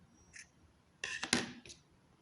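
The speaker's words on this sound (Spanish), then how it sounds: "Ahora tomen sus tijeras. Van a cortar esa hebra" Scissors snipping a strand of crochet yarn: a faint light click, then a crisp double-blade cut with a rasping shear, and a soft final snap, close up and quiet, with no talk.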